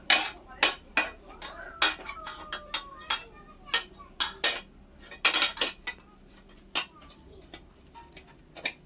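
A utensil stirs noodles with spices in a pan, giving irregular sharp metallic clinks and scrapes against the pan, close and distinct over a quiet background.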